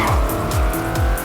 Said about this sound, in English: You just turn and you're automatically drifting.